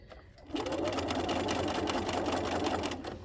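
A sewing machine stitching a fabric dog leash near its edge, a steady, loud mechanical whir that starts abruptly and runs continuously at close range.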